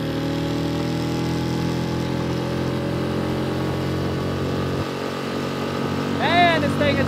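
A Mercury/Tohatsu 6HP four-stroke outboard motor pushing a small loaded boat on open water at wide open throttle, giving a steady close droning hum with harmonics that slowly shift, and a brief higher whine near the end.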